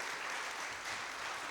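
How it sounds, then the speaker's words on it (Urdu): An audience at an alumni convention gives sustained, dense applause, many hands clapping evenly at moderate distance with no gaps. "کیمرہ مین سے گزارش ہے آپ بھی ذرا اس سب تالیوں کو ریکارڈ کریں"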